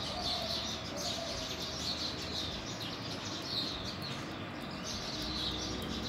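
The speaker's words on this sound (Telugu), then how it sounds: "మీకు బర్డ్స్ సౌండ్ వినిపిస్తుంది కదా" Tiny sparrows chirp in a steady outdoor chorus, a soft twittering spread across the whole stretch with a few brighter peaks over a constant low background hum.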